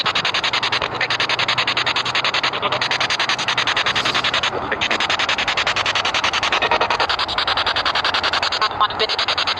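A ghost-hunting spirit box scans a radio in a cemetery at night, giving a steady, dense wash of hissing static with rapid choppy sweeps, loud and continuous with no clear voices.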